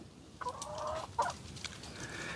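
Chickens in a coop at night, roosting under lights, giving a few drawn-out clucking calls close by over a low background hum.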